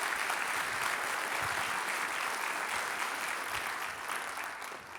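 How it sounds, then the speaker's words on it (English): Crowd applause at a Long Beach civic event, a dense steady clatter of clapping hands that fills the room and fades slightly toward the end. "I want you to join me in giving a round of applause and welcoming Spin Launch to Long Beach."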